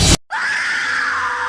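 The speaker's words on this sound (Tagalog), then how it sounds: "At isang tila pinupunit na yerong sigaw ng matandang si Aling Concepcion ang umaalingaw-ngaw sa buong sityo" An old woman, Aling Concepcion, lets out a furious, piercing scream in a Tagalog horror story. A single loud sustained shriek rings out alone after a brief cut-off, strained and harsh throughout.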